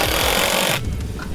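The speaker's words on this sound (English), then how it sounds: "here just putting screws at all the joint parts to tie all that together" A power driver whines steadily as screws are driven into the joints of a wooden gate under construction, the motor running loud and close before cutting off abruptly, leaving quieter room noise.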